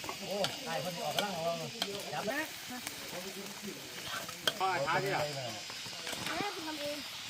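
Steady sizzling of meat stir-frying for holy basil stir-fry in a hot wok outdoors in a forest, with occasional scraping, under a person talking throughout.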